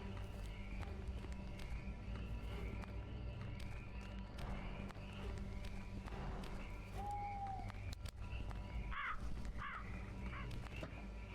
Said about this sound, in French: Putain de corbeau.